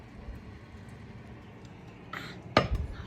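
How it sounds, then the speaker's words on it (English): Metal lid lifted off a hot pot holding a baking sourdough loaf in an oven, a soft scrape followed by a sharp clank near the end, after a quiet low hum. "So we take the lid off."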